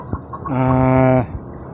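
A single loud hen cluck-squawk, drawn out for under a second, close by, with faint softer clucks just before it.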